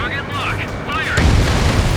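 A missile launches and detonates in Ace Combat 7, giving a sudden deep boom with rumbling roar that follows a radio voice, in the midst of jet engine noise.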